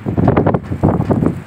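Strong sandstorm wind gusting outdoors in loud buffeting bursts across the microphone, with rough broadband roar rising and falling throughout, close and forceful, no voices.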